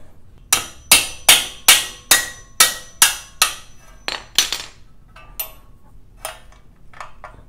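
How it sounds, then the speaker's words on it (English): Sharp metallic hammer blows knocking a part loose during Coleman CT100 mini bike disassembly, about eight in a steady rhythm, then a few scattered lighter taps, loud and close with no talking. "Just give it a little bit of persuasion with that hammer."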